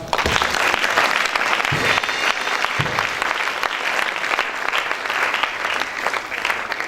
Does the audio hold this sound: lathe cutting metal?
no